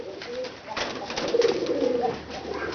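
A pigeon coos close by in a low, throaty run of burbling calls that swell louder in the middle before easing off, with no one talking.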